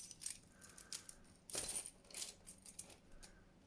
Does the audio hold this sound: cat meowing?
no